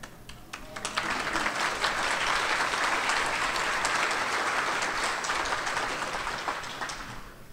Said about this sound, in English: Can you guys clap after every sentence?